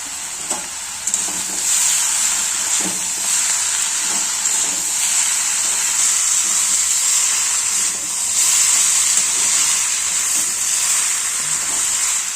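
Pumpkin stems and poppy seed paste with salt and sugar sautéing in hot oil in a pan, a steady close sizzle and hiss running throughout with occasional soft stirring scrapes.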